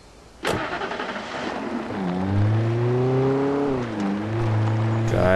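A Jeep engine in the video game Alan Wake cranks with a sharp burst, then settles into a steady running drone whose whining pitch rises and falls, close and loud throughout.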